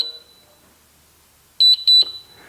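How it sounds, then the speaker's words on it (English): A fingerprint door lock gives a short electronic beep, then a little later a quick run of four sharp, high-pitched beeps close by as it scans a finger. "You hear the beep."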